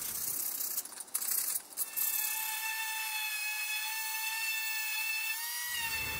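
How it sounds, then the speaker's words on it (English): Sanding on a wooden Pantorouter XL machine: short scraping bursts near the start give way to a steady high whine with a faint tonal drone lasting several seconds, close and fairly quiet, with no talking. "now I can start the long process of sanding"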